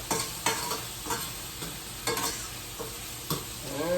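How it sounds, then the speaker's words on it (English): A spoon scrapes and stirs through food in a frying pan after black pepper and fennel seeds go in, giving repeated sharp scraping strokes over a steady low sizzle, close and fairly loud with no talking. "black pepper, all right, and I stir it up."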